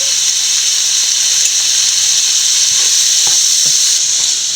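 Garlic, curry leaves and lemon frying in a pan make a loud, close, continuous sizzle with a bright steady hiss and a few faint stirring taps.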